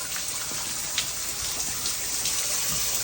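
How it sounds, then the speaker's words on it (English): Water gushes steadily from a burst frozen pipe with a constant hissing spray, fairly faint and unbroken, with no voices. "The water's shooting out of there."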